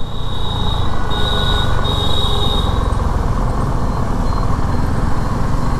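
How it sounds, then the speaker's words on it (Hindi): A knocking Suzuki V-Strom motorcycle engine idles steadily up close, with a dense, rhythmic low-end clatter and a faint high whine through the first half. "आपको एक बीच में नॉकिंग की साउंड सुनाई दे रही होगी, जो अब इसमें आने लग गई है"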